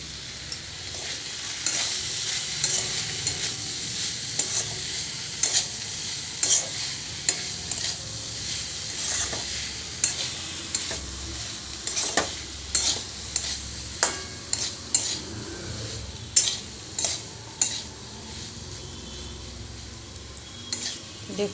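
Fried cauliflower tossed with oregano and amchur powder in a pan, rhythmic scraping stirs over a continuous soft sizzle, close and repeated about once a second, with no talk.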